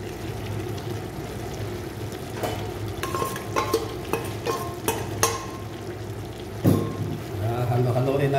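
Beef menudo with carrots and potatoes being stirred in a pot, a steady close sizzle and bubbling with a run of spoon clacks and scrapes in the middle and one louder knock near the end.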